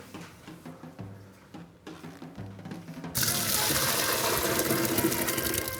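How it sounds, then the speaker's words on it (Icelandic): Water from a pot of cooked beans poured off through a sieve into a kitchen sink, a loud steady gushing splash that starts abruptly midway after quieter clattering kitchen sounds. "helli vatninu frá og baunirnar bara strax aftur í."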